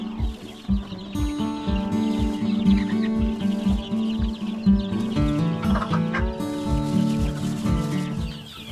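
A brooding hen clucks in low, repetitive pulses close by, steady and rhythmic throughout, with a few higher calls near the end.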